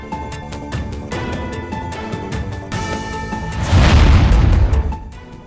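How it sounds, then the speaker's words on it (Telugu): Large explosions near Srinagar airport: a dense, continuous rumble of booms and crackling bursts that swells to a loud peak near the end, with no speech. "శ్రీనగర్ ఎయిర్పోర్టు సమీపంలో భారీ పేలుళ్లు"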